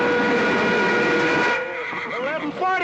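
A train pulls into a station in the 1963 western, with a loud, sustained steam whistle tone that holds and then wavers and bends over rumbling wheels, all close and prominent for about three seconds.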